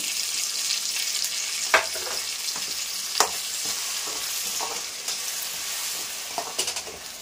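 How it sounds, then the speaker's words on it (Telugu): Ginger-garlic paste stir-fried in oil for a capsicum chicken curry, a continuous close sizzle with a few sharp spoon scrapes against the pan, no voices. "అల్లం వెల్లుల్లి పేస్ట్ అయితే పచ్చివాసన పోయేంత వరకు ఫ్రై చేసుకున్నాము"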